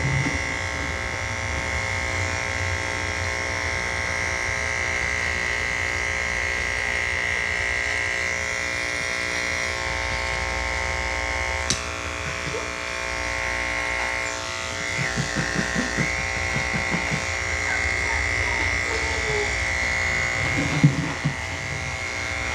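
Electric dog clippers fitted with a 30 blade trimming the paw pads of a tiny Cockapoo: a steady, close motor hum that runs throughout, with light rustling and contact sounds as the blade works the pads.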